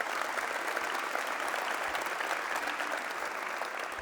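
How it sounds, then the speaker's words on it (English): A crowd applauds at a transit event held by a state governor, steady and dense clapping that fills the room evenly from start to finish without any speech over it. "Let's give him a round of applause."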